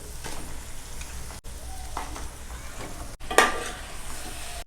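Goat head meat curry frying in hot oil, giving a steady close sizzle with stirring scrapes and a brief louder crackle partway through, and no talking.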